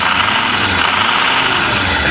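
Close, loud idling of an old diesel bus engine with a leaking exhaust, a continuous rough drone with a slight uneven chuff in the low end and no talking.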